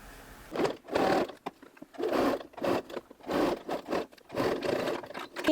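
Domestic sewing machine stitching a folded pleat on a baby romper, running in several short bursts of rapid mechanical whirring separated by brief pauses, close and moderately loud with no talking.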